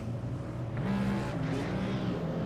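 Race car engines rumble on the grid at Motegi in the SimCAR Grand-Am Series, a dense, continuous drone with a few rising revs, loud and steady throughout.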